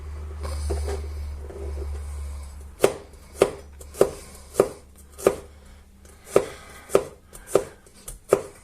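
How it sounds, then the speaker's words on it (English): Knife chopping garlic cloves on a board, a dozen or so sharp, evenly spaced strikes after a brief quiet start, close and clear. "I'll also chop up a couple of cloves of garlic."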